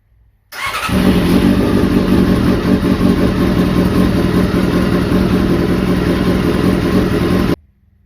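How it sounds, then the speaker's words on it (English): A Honda CBR400RR NC29 motorcycle engine starts and idles steadily, loud and close, with a constant rumbling drone for several seconds before cutting off. "I will run the engine for about 3 minutes"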